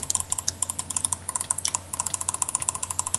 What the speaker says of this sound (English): God, you're clicking so loud.